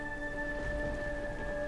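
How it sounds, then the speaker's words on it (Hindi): Heavy rain pours steadily in a horror story scene, a continuous dense hiss under faint sustained tones, with no voices. "आज तेज बारिश और बिजली दोनों ही अपना अपना कहर बरसा रहे होते हैं।"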